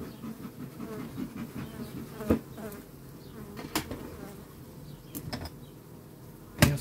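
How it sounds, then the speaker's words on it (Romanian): Honey bees buzz in a constant close swarm, punctuated by a few sharp knocks and clunks of handled wooden hive parts. "Am văzut eu că avea albină multă"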